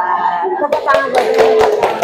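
Hands clapping in a classroom, a run of sharp claps starting partway through and following a voice, close and fairly loud.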